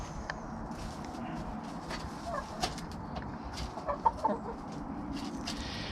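Backyard chickens cluck and murmur around their coop, several birds giving soft repeated clucks and a few louder calls over a constant low rustle of outdoor ambience, close by with no talk.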